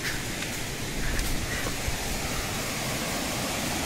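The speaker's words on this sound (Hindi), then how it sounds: "ये देखिए दोस्तों छोटा चिरचिरी वाटरफॉल काफ़ी छोटी है लेकिन बहुत ही अच्छी है" Small Chirchiri waterfall in the jungle at Jashpur, Chhattisgarh, a steady broadband rush of falling water, continuous and fairly even, with no voices.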